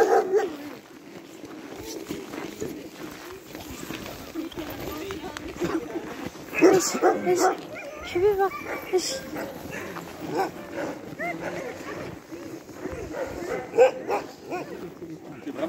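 Several sled dogs bark and whimper in a busy, continuous chorus, with yips rising over the pack while a person speaks briefly nearby.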